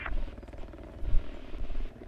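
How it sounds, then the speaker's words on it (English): A helicopter in the shooter game Battlefield 4 produces a fast rhythmic rotor chop at moderate distance, mixed with low rumbling game noise over a brief stretch. "I hear a helicopter."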